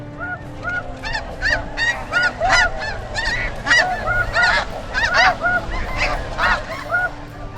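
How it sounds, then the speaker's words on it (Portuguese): Geese honk loudly and repeatedly in a dense overlapping chorus, near and continuous, with no voices. "os caçadores tentam imitar o chamado do ganso para atraí-los"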